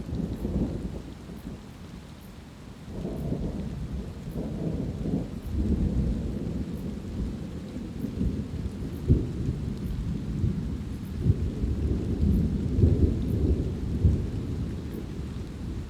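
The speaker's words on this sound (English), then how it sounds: "that rolling thunder and rain you hear right before I show them is actually the exact same rolling thunder and rain you hear from the one teaser" Rolling thunder and rain as a trailer sound effect: steady rainfall throughout with low, rumbling thunder swelling and rolling in the middle and later parts.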